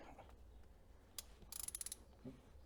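Screws being undone on the oil separator of a 1.4 16V AUA engine in an Audi A2: a faint, close ratcheting burst of quick clicks from a hand tool, with small metallic taps before and after in a quiet workshop.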